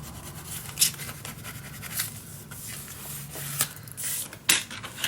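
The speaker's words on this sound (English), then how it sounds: "burnish this down" Paper being burnished flat onto a scrapbook page for a Marry Me mini album, giving quiet, intermittent dry rubbing and scraping strokes with a few sharper rasps, close up and alone.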